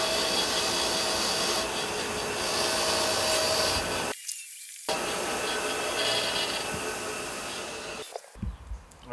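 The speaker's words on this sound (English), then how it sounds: "I just use a wire wheel." A bench wire wheel whirs loudly and continuously as it strips factory Loctite from motorcycle riser screws on a 2024 Road Glide, with a brief pause, then grinding rasps and a spin-down near the end.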